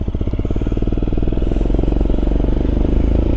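Royal Enfield Scram 411, a single-cylinder 411cc motorcycle fitted with a Zard exhaust pipe, thumping loudly and close in a steady rapid pulse as it rides along.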